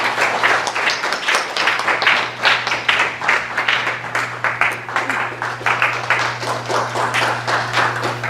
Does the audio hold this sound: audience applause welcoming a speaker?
yes